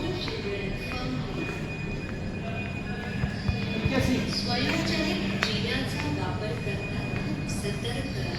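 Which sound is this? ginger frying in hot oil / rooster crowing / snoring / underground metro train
underground metro train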